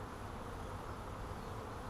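A dense swarm of honeybees clustered together during a swarm catch, buzzing in a steady, loud, unbroken drone close by with no talk.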